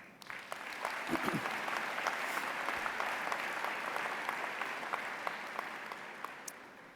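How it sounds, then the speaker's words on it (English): Crowd applause at a university English department winter commencement ceremony, swelling quickly into a long, even roar of clapping from a large audience, with a few sharp individual claps and faint cheers standing out. "How about one more round of applause?"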